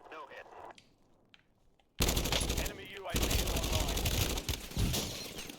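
Rapid bursts of automatic gunfire in Call of Duty Warzone, starting abruptly after a quiet stretch and continuing loud and dense as several weapons trade fire.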